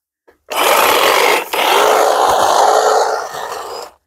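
A Cobra cutter cuts weeds at ground level in a garden, a loud close power-tool whine that starts abruptly, dips briefly once, then runs on steadily before cutting off.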